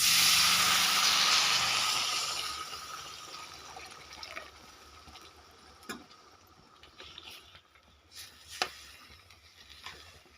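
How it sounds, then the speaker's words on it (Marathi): A loud rush of water pouring into a pan of dry vegetable stir-fry at the start, fading into quieter sizzling with a few faint clinks. "थोडं पाणी टाकून घेते आता"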